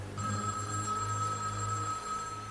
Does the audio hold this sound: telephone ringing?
yes